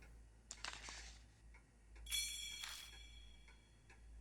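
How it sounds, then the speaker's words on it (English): An old clock in the Spirit Hunter: NG game gives off faint ticking and a soft metallic whirring chime as its long hand is spun, quiet and with no talking. "When I spin the long hand, the clock makes a noise."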